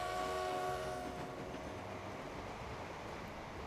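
Steam trains running in the Transport Fever video game, opening with a sustained horn or whistle tone and then a steady low rumble of rolling wheels, soft and continuous.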